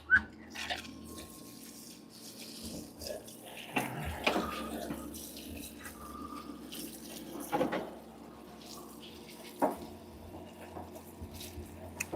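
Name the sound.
parts cleaner running fluid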